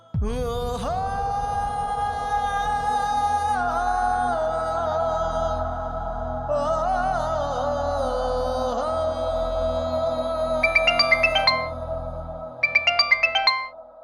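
A phone rings out with a looping electronic melody, a bright tonal ringtone that sustains and shifts pitch, then ends in quick chiming bursts, loud and close with no talking over it.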